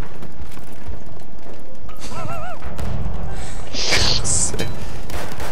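Battlefield 1 multiplayer combat with thuds and booms of explosions and scattered gunfire, loud and close, while a player talks over the noise.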